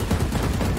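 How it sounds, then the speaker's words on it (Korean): Rapid gunfire from a Valorant match in a Korean clan battle, a dense burst of overlapping shots filling the whole moment, loud and close with no voices over it. "여러분 총소리로 두 명인 걸 눈치챘습니다."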